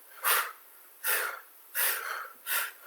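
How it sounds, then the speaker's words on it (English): Quick, forceful exhales through the nose during a yoga boat pose, four short breathy bursts at a regular rhythm, close and clear against silence. "Getting these little exhales with each one."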